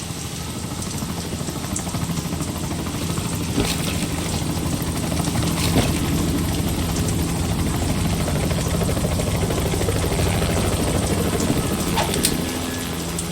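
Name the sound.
video game helicopter engine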